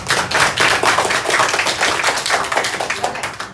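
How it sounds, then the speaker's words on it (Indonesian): Pupils in a classroom applauding energetically, a dense, sustained patter of many hands clapping at once, loud and near, without speech. "Tepuk tangannya semangat."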